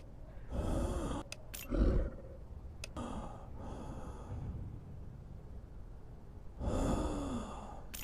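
A Quarantine Zone character breathes heavily in short gasping and sighing bursts, close and fairly soft, with rough exhales separated by quieter pauses and no talking.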